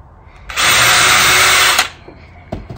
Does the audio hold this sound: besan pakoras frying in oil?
no